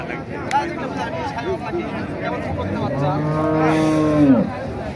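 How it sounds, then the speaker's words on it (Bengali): A Sahiwal cross cow at a livestock market in Naogaon gives a long, loud, close moo that rises and then falls away, while people talk and a crowd murmurs in the background. "এটা শাহিওয়াল মনে হচ্ছে শাহিওয়ালের সাথে ফিজিয়ামের ক্রস"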